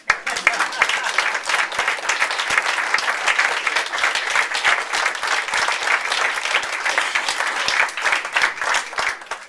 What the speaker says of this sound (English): Now give yourself a round of applause for being a fantastic audience.